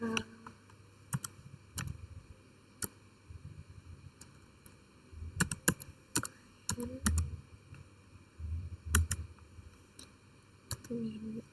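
A command is typed on a computer keyboard, with sparse irregular key clicks in short bursts and a few louder taps, quiet and close, while a voice murmurs faintly in between.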